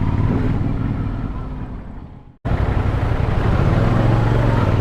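A CF Moto NK 450 motorcycle engine from 2023 runs loudly up close, its rumble fading briefly before a sharp cut and then resuming at a steady, full idle.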